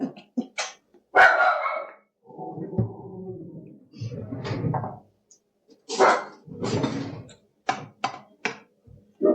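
Small dog barking in a home kitchen during cooking, several short sharp barks scattered through the clip, some in quick pairs, near and fairly loud between quieter kitchen clatter.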